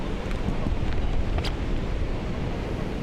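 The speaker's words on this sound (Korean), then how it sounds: "제법 높은 파도가 계속해서 해안으로 밀려오고 있습니다" High waves roll in off the Seogwipo coast on Jeju under strong wind, a dense, continuous roar of surf and gusting wind buffeting the microphone with no pause.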